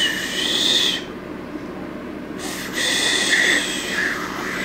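A person attempting a finger whistle, giving a breathy, airy hiss with a faint wavering high tone, in two attempts separated by a short pause.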